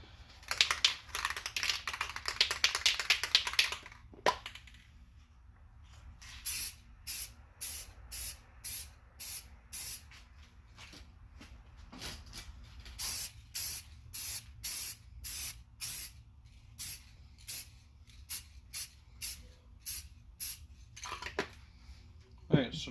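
Aerosol spray can laying a mist coat on foggy headlights of a Mustang: a long hissing spray burst, then a run of many short, evenly spaced spray pulses, close and fairly loud, with brief quiet gaps between them.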